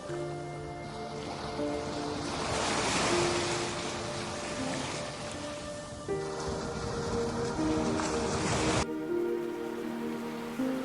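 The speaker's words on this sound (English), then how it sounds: "Waves crash below" Sea waves crashing against the rocky coast below Dunnottar Castle in Scotland, a broad, steady roar of surf under a layer of sustained musical tones.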